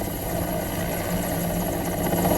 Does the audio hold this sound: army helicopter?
yes